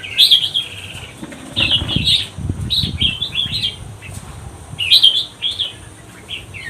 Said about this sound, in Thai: ชมบรรยากาศ นกในกรงรวมนะครับ